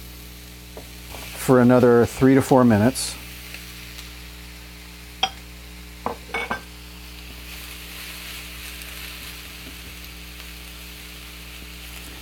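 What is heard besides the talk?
yellow squash frying in fajita beef skillet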